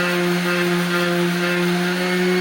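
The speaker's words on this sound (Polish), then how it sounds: "Szlifierka naprawdę pod wpływem swojego ciężaru szlifuje, naprawdę nie trzeba ją dociskać" A Bosch GEX 125-150 AVE random orbital sander runs on a surface with a loud, steady motor hum that holds a constant pitch, close and uninterrupted, with no talking.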